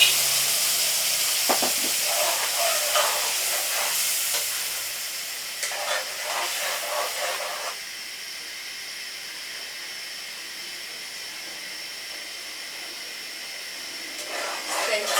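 Blended vegetables hit hot red palm oil with locust beans in a pot for jollof rice, giving a loud hissing sizzle that settles into a quieter steady fry, with a few stirring bumps.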